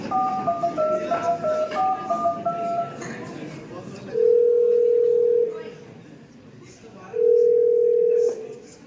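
A telephone plays a short melodic tone sequence during a phone call in a student theatre skit about dowry. Two long, steady, loud beeps follow, separated by a quieter gap.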